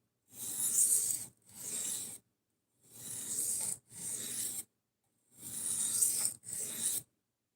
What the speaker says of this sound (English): Just sharpening at the moment.